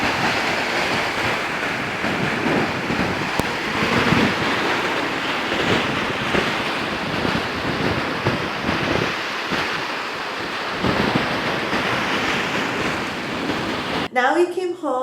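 Strong wind buffets the microphone on the beach at Lignano under a red flag, with heavy surf rolling and breaking in a constant loud roar that masks most other detail for nearly the whole stretch.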